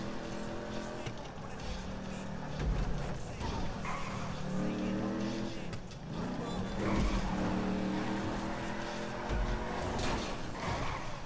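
Hotknife hot rod driven in GTA V, its engine droning steadily with rising and falling revs through the whole stretch, tires squealing in places, while a voice talks over it.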